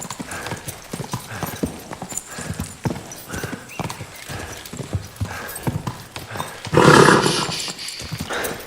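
Horse hooves clip-clopping in Kingdom Come Deliverance 2, a steady rhythmic trot of close, moderately loud hoofbeats, joined near the end by a brief louder burst that may be a snort or whinny.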